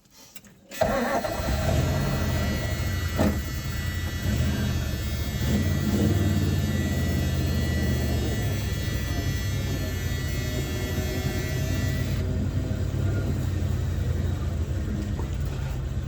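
A 1980 Dodge Power Wagon that sat for 20 years cranks and starts, then settles into a steady, loud idle close by, a rough continuous engine rumble with a faint hum throughout.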